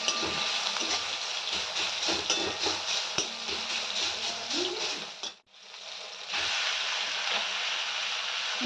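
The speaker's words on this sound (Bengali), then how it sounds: "পেঁয়াজটা আমার ভাজা প্রায় হয়ে এসছে এরপর আমি মাছের তেলগুলো যে আছে সেটাকে ছেড়ে দেবো" Continuous sizzle of onions frying in rohu fish oil, with scraping stir sounds, a brief near-silent dip partway through, then the hiss resumes louder and steady.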